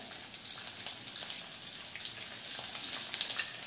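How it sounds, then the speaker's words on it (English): Shallots and garlic cloves fry with a pinch of asafoetida in a pan, producing a steady close hiss with light stirring clicks and a slightly louder burst near the end. "Fry it nicely."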